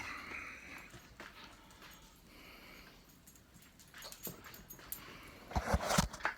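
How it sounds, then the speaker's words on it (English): A dog whimpers and pants indoors in soft, intermittent bursts, growing louder and busier toward the end with some scuffling. "Here's Drew the dog."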